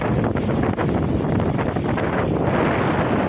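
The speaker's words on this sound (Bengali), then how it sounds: "আপনারা হয়তো বাতাসের শব্দ শুনতে পাবেন" Steady, broadband wind roars across an empty beach in Malaysia, buffeting the microphone continuously with a loud, even rush and no pauses.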